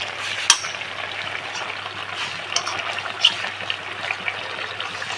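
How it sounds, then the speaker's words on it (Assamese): Fish boiling in a covered pot, a steady bubbling simmer with faint lid rattles and a few small clicks, close and moderately loud. "এতিয়া ধুনীয়াকৈ উতলি আছে"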